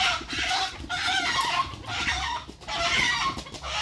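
Chickens cluck in short bursts nearby, a few soft calls overlapping in uneven rhythm against light background noise.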